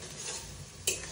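Meat cooking in a pan at a rooftop family picnic gives a faint, steady sizzle, with a single quick stirring scrape near the end of the brief moment.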